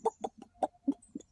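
A person's voice imitates a hen's clucking in a run of six short, evenly spaced clucks, close and alone.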